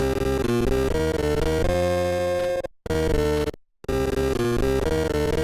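Slow, dense NES video game music plays slowed down, with thick layered tones, briefly cutting out twice into short silences before resuming.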